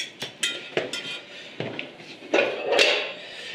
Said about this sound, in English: Quick stir and you're done.